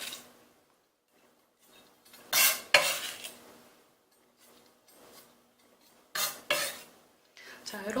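Finely chopped food scraped off a cutting board onto a plate while preparing Italian meat sauce in a cooking exam kitchen, heard as a few short bursts of scraping and clattering separated by quiet pauses.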